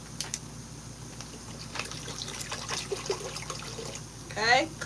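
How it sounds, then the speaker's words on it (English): A cup of water poured into a pot of vegan seafood boil sauce, a soft liquid trickle and splash rising near the end, close by, with a person talking over it. "Okay, cup of water going in."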